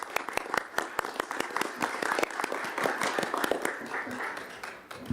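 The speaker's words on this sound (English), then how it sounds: "Awesome, round of applause." A round of applause at a city council meeting with sharp, distinct claps from a modest group, close and lively, lasting the whole stretch.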